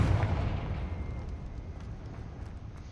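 A Confringo spell blast in Hogwarts Legacy, a loud booming burst at the start that rumbles on and decays over the next few seconds.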